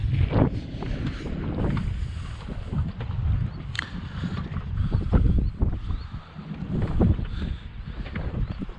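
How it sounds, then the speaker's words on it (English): Wind buffets the microphone near water as the motors of four or five boats hum and water laps, with an open, outdoor lake feel. "There's probably like 4 or 5 boats out right now."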